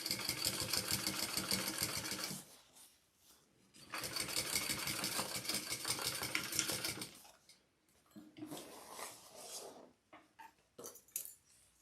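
A sewing machine top stitches fabric in bursts of rapid, steady needle chatter, close and clear, pausing between runs of stitching with softer handling noises in the gaps.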